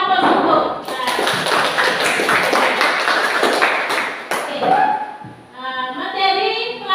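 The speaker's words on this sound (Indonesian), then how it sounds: "Beri aplaus untuk" A classroom of students breaks into loud, sustained applause, dense overlapping claps that fade out partway through before a brief resurgence, with voices chattering at the end.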